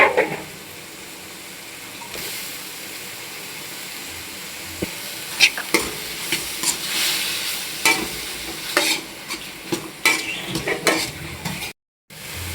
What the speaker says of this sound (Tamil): தக்காளி வதங்கிருச்சு, அடுத்து கத்திரிக்காய் போட்டுக்கலாம்.